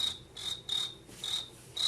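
A person imitates a cricket chirp with the mouth, producing five evenly spaced, shrill chirps in quick rhythm, close and alone without talk.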